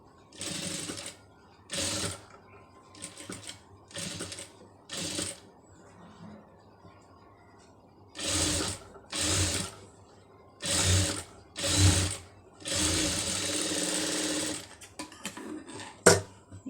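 A sewing machine stitches invisible piping in several separate bursts of a few seconds each, with short pauses and faint handling sounds between runs, close and fairly loud with no talking.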